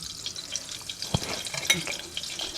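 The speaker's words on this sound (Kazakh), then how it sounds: "Майымыз еріп атыр, мінекей, сары май мен тоң май." Butter and mutton tallow melt in a hot pan, giving a close, steady crackling sizzle with a few sharp pops and light stirring scrapes.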